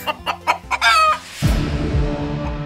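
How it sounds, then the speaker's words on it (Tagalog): A chicken clucks several times in short bursts close by, followed by a louder, drawn-out squawk. "Ang kanyang manok."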